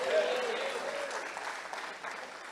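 A church congregation applauds in a steady wash of clapping that fades slightly over a couple of seconds, with a voice briefly heard at the start.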